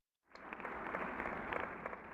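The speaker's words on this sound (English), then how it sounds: "A muffled applause resonated faintly through the walls." Muffled applause heard faintly through walls in the video game Beacon Pines: a steady, dull wash of many hands clapping that starts abruptly after a brief silence and continues evenly, its brightness dampened.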